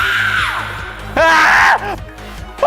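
A groom yells loudly on his wedding night: a sustained, strained shout that rises and falls, followed by a second, louder bellowing cry, close and harsh over background music.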